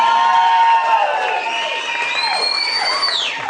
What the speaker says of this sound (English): why don't you give a big round of applause for our happy couple